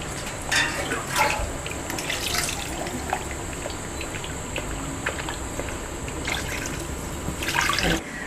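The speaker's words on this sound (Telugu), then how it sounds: "ఓన్లీ వాటర్ పోసేస్తున్నాం ఇప్పుడు" Water poured into a pot of fish tamarind stew (chepala pulusu), a steady close splashing and trickling with brief louder gushes near the start and end, no talk.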